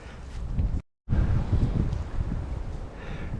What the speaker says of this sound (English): A big 30-mile-an-hour gust was giving me some trouble